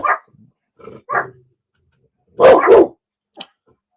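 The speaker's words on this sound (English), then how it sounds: "my dogs may go off" A dog gives a few short barks indoors, answering a noise outside through an open window, with a louder double bark midway and a faint yelp near the end.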